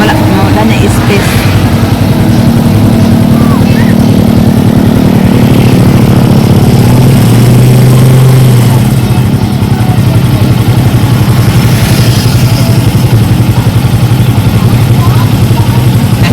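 A tractor engine runs steadily at close range, a continuous low throbbing drone that holds for the whole stretch with a brief rise in pitch partway through, while people talk over it now and then.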